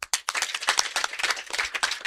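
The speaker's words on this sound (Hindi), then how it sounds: "भैया के लिए ताली बजाओ" An audience at an open mic in Delhi claps for a performer: dense, steady applause of many hands, fairly close and loud, running throughout without a break.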